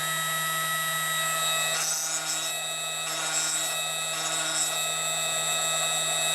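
A Screw-Saver grinding machine works a screwdriver tip, taking a shallow cut: a steady motor whine and hum runs throughout, with a few brief rises of grinding noise as the tip meets the wheel.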